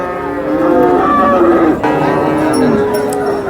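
Heifers at a calf livestock market in Modnimb, one giving a loud, close, drawn-out moo that falls and rises, with market noise behind it.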